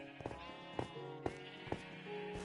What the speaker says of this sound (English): those sheep are still alive